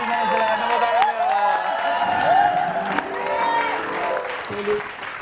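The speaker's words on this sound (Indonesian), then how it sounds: "Tepuk tangannya." Studio audience applause with some cheering for a contestant named Eka on an Indonesian TV lookalike talent show, steady and fairly loud throughout with music or voices mixed in underneath.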